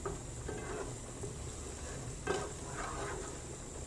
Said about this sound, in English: lagyan na natin ang cooking cream